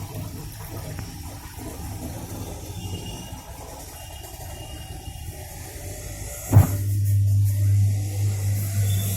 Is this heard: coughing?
no